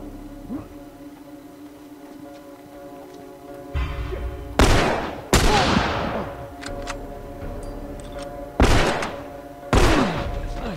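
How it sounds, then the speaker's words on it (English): Hunting rifle shots ring out in a gunfight in the video game The Last of Us: four loud, sharp blasts with long decaying echoes, spaced a few seconds apart over a low steady background hum. "This gunfight is not going particularly well."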